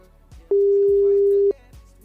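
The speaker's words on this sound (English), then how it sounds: "All right, so the phone is ringing." A single steady electronic telephone tone on an outgoing call lasts about one second, loud and clean, between quieter background sounds.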